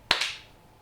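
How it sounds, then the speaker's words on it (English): A single sharp hand clap made to sync a podcast recording, close and loud, with a quick second transient and a short ringing decay into quiet. "just clap to sync"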